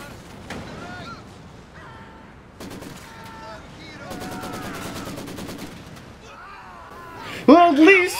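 Rapid machine-gun bursts and scattered rifle shots rattle through a Company of Heroes 2 battle, loud and close, layered over voices and ending in a sharper, louder burst.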